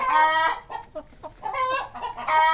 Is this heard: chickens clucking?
yes